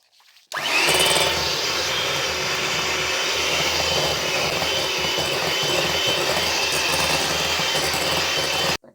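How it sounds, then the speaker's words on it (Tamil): An electric mixer beating 125 grams of butter with 125 grams of sugar for an eggless cake: a loud, steady motor whir that starts abruptly, holds constant for about eight seconds, then cuts off, with no speech. "அதோட இந்த 125 கிராம் சுகரையும் சேர்த்து பட்டரையும் சுகரையும் பீட் பண்ண போகிறேன்"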